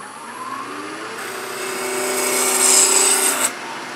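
A wooden bird blank is rounded on a lathe in multi-axis turning, producing a close, continuous rasping cut over a steady motor whine that swells louder before the cut suddenly eases.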